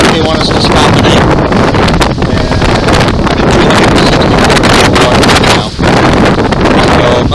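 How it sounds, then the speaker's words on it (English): Strong wind of about 17 knots on a reefed sailboat off the Egyptian coast near Alexandria, buffeting the microphone in a loud, continuous roar with gusty rustling and no clear voices. "We've got 17 knots of wind."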